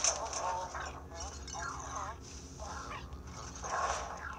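A dog barks, yips and whimpers in the video game Luigi's Mansion 3, in several short bursts mixed with game music and someone talking in French over it.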